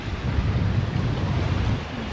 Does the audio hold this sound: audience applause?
no